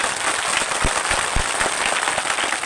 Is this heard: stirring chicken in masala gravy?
no